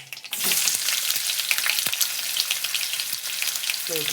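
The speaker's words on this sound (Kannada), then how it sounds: "ಸಾಸಿವೆ ಜೀರಿಗೆ ಹಾಕ್ಕೊಂಡು ಅದು ಚಟ್ಪಟ ಅನ್ನೋ ಟೈಮಲ್ಲಿ ನಾನು ಈರುಳ್ಳಿ ಕೂಡ ಹಾಕ್ಕೋತೀನಿ." Onions hit hot oil where mustard seeds and cumin are crackling and popping, a dense, loud, continuous sizzle with sharp pops and a few stirring scrapes, close up and with no talking.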